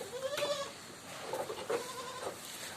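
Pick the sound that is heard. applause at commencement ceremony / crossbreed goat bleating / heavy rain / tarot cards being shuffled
crossbreed goat bleating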